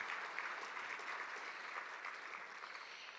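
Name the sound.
applause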